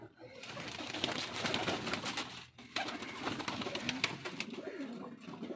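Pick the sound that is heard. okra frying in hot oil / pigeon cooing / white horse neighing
pigeon cooing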